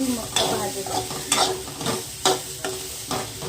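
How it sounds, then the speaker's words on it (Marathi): Sweet corn roasting in oil in a pan, with close, repeated scraping stirs every half second or so over a steady, soft sizzle. "तेल टाकून भाजावं लागतं बघा तेल टाकून भाजायचं"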